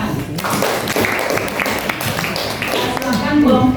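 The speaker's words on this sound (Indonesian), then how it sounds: "kalau sudah paham, kita berikan tepuk tangan." A classroom of students claps together, a dense, steady patter of applause that runs the whole time, with voices mixed in.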